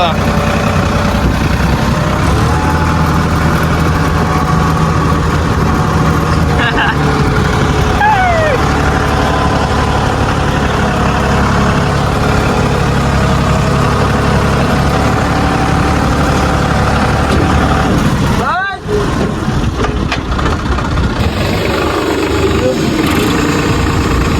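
A tractor engine idles loudly and steadily for a long stretch, and people talk over the rumble throughout.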